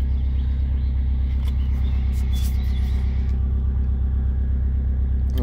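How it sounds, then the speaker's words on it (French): A Subaru Impreza STI idles on after the key is pulled, its turbo timer keeping the engine running with a steady, low, throbbing rumble that holds even and close throughout, alone with no voices. "j'ai même retiré la clé que le moteur continue de tourner et ça s'appelle un turbo timer"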